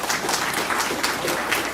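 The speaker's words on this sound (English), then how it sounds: "I think everybody should applaud themselves, our citizens and our police officers" Citizens and police officers at a community police meeting in Houston applaud, a brief, steady patter of many hands clapping in a meeting room.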